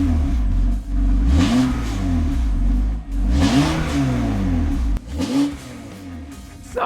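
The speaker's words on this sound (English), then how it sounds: "I'm revving." A BMW M3 engine, from a cheap abandoned car being rebuilt, revs in three rising and falling surges that are loud and close, then settles at a lower idle.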